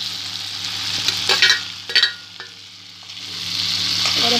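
Fried okra (bhindi) tipped into a hot pan for bhindi do pyaza and stirred: a steady sizzle with a few sharp scraping, clattering stirs, then frying hiss swelling again, no voices.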